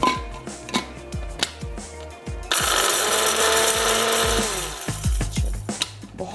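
Fenugreek, cumin and nigella seeds crushing in an electric spice grinder, a brief coarse whir that jumps to a loud sustained grinding roar for about two seconds, with knocks and clatter before and after.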